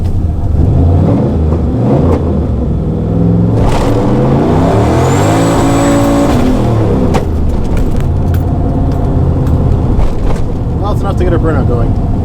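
A Pontiac Trans Am engine revs during a burnout attempt with the brake held, rising and falling loudly in a sustained roar close by, with a brief whine near the peak and voices talking over it.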